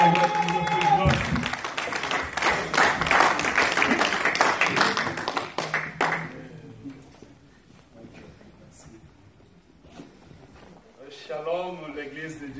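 A church congregation in Lyon claps and cheers to welcome a pastor, a loud, dense burst of applause that fades after several seconds, giving way to quieter sound and then a voice speaking.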